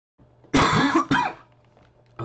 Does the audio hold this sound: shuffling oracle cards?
no